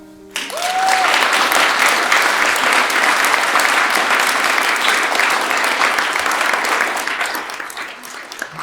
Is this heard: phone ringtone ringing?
no